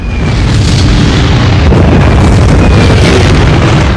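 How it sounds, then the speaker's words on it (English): Missile explosions from warships thunder in a war film scene, a dense, sustained roar of booms and blasts with no pause across four seconds, loud and close. "Warships passing by throwing missiles from the sky, and Ludmila panics"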